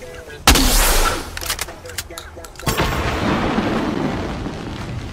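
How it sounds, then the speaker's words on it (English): A flare gun fired in a PC video game: one loud sudden blast followed by a roaring, hissing burn that fades, then a second rush of noise, with game sounds continuing behind. "I need that flare gun. Pick it up. No, flare gun, pick it up. And we're just gonna shoot it."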